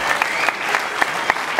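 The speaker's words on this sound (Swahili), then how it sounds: "unaweza kupiga makofi kama unapenda" An audience at a church sermon breaks into brief applause, a burst of claps with a few sharper individual claps standing out, close and fairly loud.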